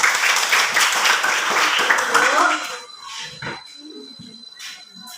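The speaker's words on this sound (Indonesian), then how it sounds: "tepuk tangan semuanya" A school class claps together for about two and a half seconds, a close, lively burst that then cuts off, leaving quieter room sounds and some voices.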